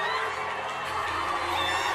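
Fans in the stands at a wheelchair curling mixed doubles semi-final in Milan, many of them Chinese supporters, raise a sustained roar of cheering and whooping that fills the arena loudly and steadily.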